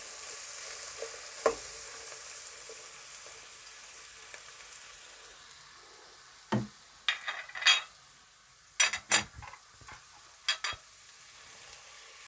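Onions and beef frying together in a pot, a quiet continuous sizzle with several sharp scraping stirs and clanks of a spoon against the pot toward the end.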